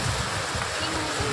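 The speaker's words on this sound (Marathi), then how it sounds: "मोठ्या प्रमाणामध्ये पाऊस पडत आहे।" Heavy rain falls on a flooded road near Hingoli, a dense, continuous wash of water and splashing. Voices talk over it for the whole clip.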